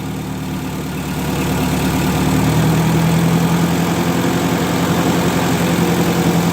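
A 1958 Oliver 550 diesel tractor engine idles after a timing adjustment, a loud, close, steady rumble that rises slightly in pitch and intensity partway through and then holds an even, throbbing run.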